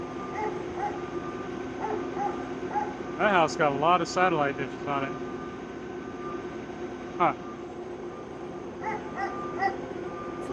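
Scattered dog barks carry over a constant asphalt milling machine engine hum, and a person's voice cuts in briefly partway through.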